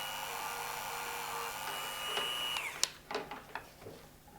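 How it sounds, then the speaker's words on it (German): A rotary polishing tool set to 6000 rpm polishing metal parts of a vintage Pfaff 30 sewing machine, a steady high whine that drops off partway through, followed by a few clicks and taps. "habe ich jetzt auf 6000 Umdrehungen eingestellt und wir polieren"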